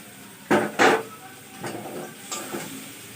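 Spice paste being stirred in a metal pan: two sharp scraping clanks close together, then softer spatula scrapes with a faint hiss between them, no voices.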